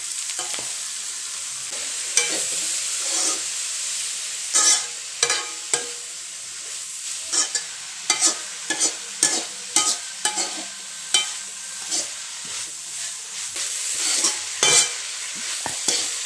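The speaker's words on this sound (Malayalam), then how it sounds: "നമ്മുടെ സവാള എല്ലാം നല്ലപോലെ ഒന്ന് വഴറ്റി കിട്ടിയിട്ടുണ്ട്" Onions sautéing with salt in a pan for a Kerala-style duck curry, a steady soft sizzle punctuated by repeated sharp scraping stirs of a spoon against the pan, close and without talk.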